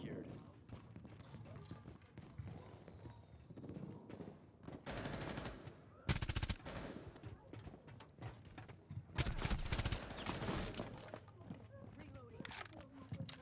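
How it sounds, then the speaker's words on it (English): Gunfire crackles back and forth through a window in Rainbow Six Siege, with scattered shots and then two loud bursts of rapid automatic fire amid game noise and footsteps, while players talk throughout. "we were shooting at each other through a window"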